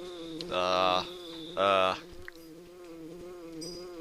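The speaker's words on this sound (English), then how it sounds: "Ness, do you hear that buzzing that sounds like a bee flying around?" A bee buzzing sound effect from the Earthbound video game plays as two loud, harmonic electronic buzzes of about half a second each, followed by quieter game sounds.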